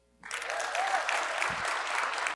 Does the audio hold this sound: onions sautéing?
no